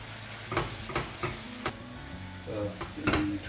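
Pepper steak meat frying in a pan as it is flipped and stirred, a steady close sizzle broken by scraping strokes and light clatters of utensil against pan.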